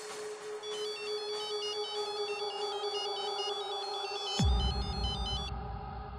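A telephone rings with a repeating electronic warble, steady and fairly loud, then a low thump cuts in near the end and the ringing stops.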